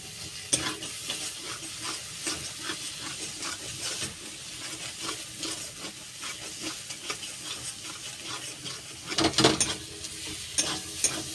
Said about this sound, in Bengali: মশলাটা প্রায় কষানো হয়ে গিয়েছে এত সুন্দর একটা গন্ধ উঠেছে আর একটু কষিয়ে নেব